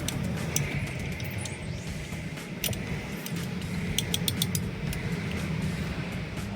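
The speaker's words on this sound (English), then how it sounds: "we'll then go ahead and use the ratchet 13 to wind it off" A 13 ratchet winds a bolt off a Bentley brake caliper, a continuous clicking pawl mechanism heard close up over a steady background rumble.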